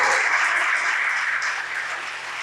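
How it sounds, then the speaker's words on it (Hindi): A church congregation claps in celebration during a sermon, a thick, continuous wash of many hands clapping together, steady and fairly close, easing slightly toward the end. "सेलिब्रेट करते हुए ताली बजाओ।"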